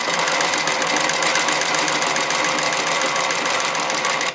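A 1945 Singer 241-11 industrial sewing machine stitching through felt, a fast steady mechanical needle chatter running continuously at close range before stopping abruptly.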